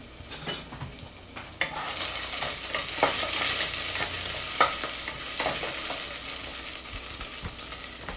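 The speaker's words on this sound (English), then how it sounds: "I'm going to stir this up." Kimchi soup stirred in a pot on the stove, a loud bubbling sizzle swelling after a quiet start, with repeated scraping and clinking strokes of the utensil against the pot and no talking.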